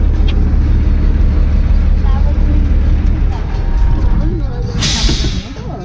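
A voice imitates a truck's air brake with one short, sharp hiss near the end, heard over the loud, constant rumble of a running vehicle engine.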